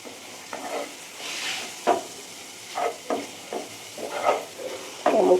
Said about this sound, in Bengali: গোলমরিচ গুঁড়ো দিয়েছি, দেখি এইবার ভাজা ভাজা মতন করব। জল দেব না